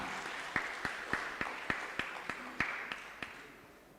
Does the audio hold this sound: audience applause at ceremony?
yes